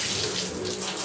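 Tap water runs steadily into a sink during household cleaning with an eco cleaning product, a continuous close hiss and splash with no voices.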